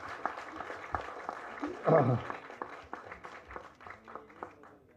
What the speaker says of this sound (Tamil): அதுக்காக ஒரு தடவை கைதட்டு